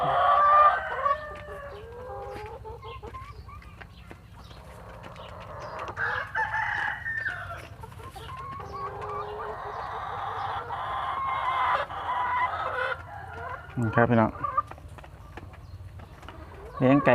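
Egg-laying hens cluck and murmur steadily while foraging nearby, with repeated bursts of calls and a short, sharp crow-like cry near the end over a low background hum.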